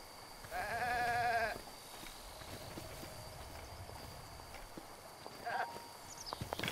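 Goats in Zelda: Breath of the Wild let out a loud, wavering bleat, then a shorter one a few seconds later, over faint ambient game sound.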